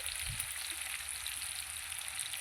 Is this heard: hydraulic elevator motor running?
no